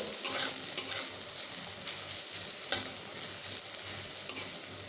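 Chopped onions frying until light brown: a faint, steady sizzle broken by a few sharp scraping strokes from stirring, with no voices.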